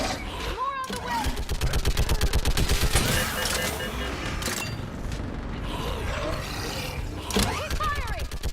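Rapid automatic weapon fire in the video game Mass Effect 3, sustained bursts of loud, close gunshots with mechanical clanks and shouted voices over battle noise.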